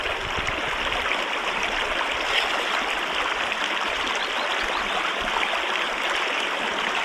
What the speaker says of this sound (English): I like just to listen to the sound of the water